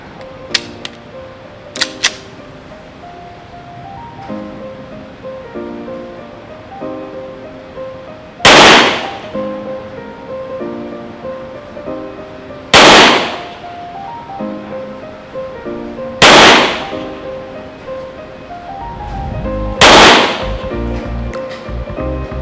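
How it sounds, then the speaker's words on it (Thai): Four sharp, loud pistol shots from a Staccato P fired at a standard target about 10 meters away, spaced several seconds apart, with faint clicks and handling noise between them. "เดี๋ยวเรามาลองยิงเป้ามาตรฐานนะครับที่ระยะประมาณ 10 เมตรนะครับ"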